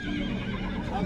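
A horse whinnies amid the background bustle of a rural horse market in Jumgal, Naryn, Kyrgyzstan, with a steady murmur of the crowd.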